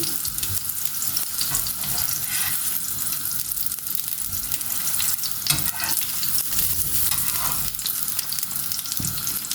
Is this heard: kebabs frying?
yes